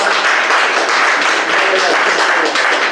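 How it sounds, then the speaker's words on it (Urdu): Audience applause at an Urdu poetry gathering, a dense, steady wash of clapping filling the whole stretch at close range with no break. "ان کے لیے زوردار تالیاں بجائیے آپ"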